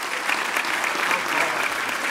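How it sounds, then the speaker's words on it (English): A banquet audience at an all-star week awards dinner applauds the state coaches of the year, a thick, even roar of clapping lasting about two seconds, close and full. "Would you please give all of these state coaches of the year a round of applause?"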